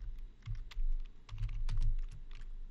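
Keys clatter on a computer keyboard while an email is typed, a close, busy run of uneven clicks in short bursts with brief pauses between them.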